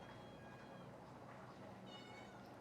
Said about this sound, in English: Oh, listen to that cat.